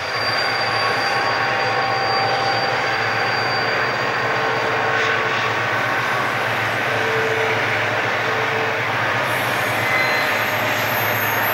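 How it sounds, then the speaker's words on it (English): An eastbound Santa Fe freight train approaches near the Tehachapi loop: a loud, continuous, rumbling roar with sustained wheel squeal tones running throughout. "As this eastbound Santa Fe freight approaches Waylong"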